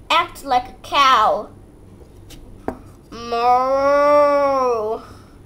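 A child imitates a cow, first with short excited vocal bursts, then after a pause with one long, steady, drawn-out moo held for about two seconds, close and clear.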